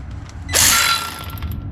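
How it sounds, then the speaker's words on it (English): A single sharp metallic clang and ratcheting clatter while an engine is bolted down into a 1966 Plymouth Belvedere, loud and close, followed by a fading ring. "So I'm going to go ahead and get this bolted down."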